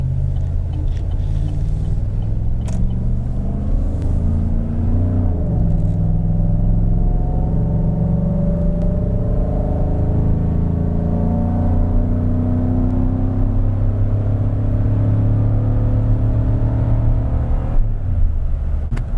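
A truck engine pulls out into traffic at about 1,600 RPM, a loud, steady low rumble with a rising, straining drone as it takes the load, continuous and heard with no talking.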